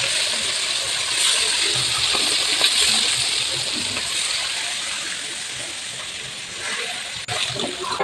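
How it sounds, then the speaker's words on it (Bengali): Fish frying in hot mustard oil in a wok, a steady loud sizzle and crackle with bubbling spits throughout, close up and with no talking. "মাছটাকে ভেজে নেব।"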